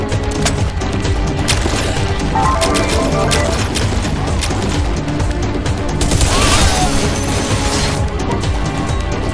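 Dense, loud bursts of gunfire and crashing explosions from the video game Bodycount run throughout, with a big blast swelling near the end amid constant chaotic action.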